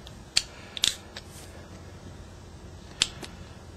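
Plastic case of a Bluetooth USB dongle being pried open, giving a few sharp, close snapping clicks spread over a quiet background.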